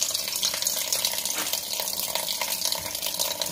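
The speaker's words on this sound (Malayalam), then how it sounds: "ഇതിൻ്റെ മുകളിലോട്ട് ഇങ്ങനെ പച്ചവെള്ളം അങ്ങ് ഒഴിച്ചു കൊടുക്കണം." Cold tap water pours steadily over cooked rice ada drained in a strainer while making ada prathaman, a continuous close splashing gush with no talk.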